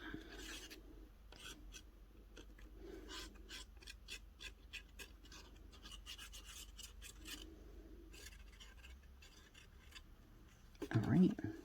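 Scissors trim a decorated altered paper clip up close, making a run of quick, faint snips and rasping rubs in irregular bursts, with a louder knock or handling bump right at the end.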